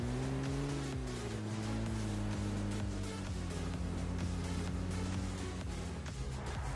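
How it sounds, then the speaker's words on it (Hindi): Loud, steady engine drone of a vehicle driving in PUBG Mobile on the Rozhok map, its pitch rising and gently falling across several seconds with rumbling road noise underneath. "तो यहाँ पे गाइस गाड़ी उठाते और भाई रश मारते हैं बंदों पे"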